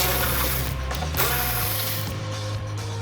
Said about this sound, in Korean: 이 부분에 있는 볼트 3개를 풀어줘야 됩니다.